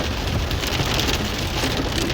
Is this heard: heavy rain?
yes